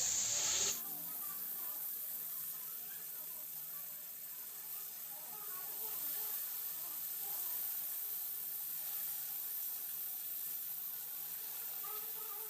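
A bata fish fries in hot oil after being flipped, producing a steady, fairly quiet sizzling hiss that runs unbroken throughout.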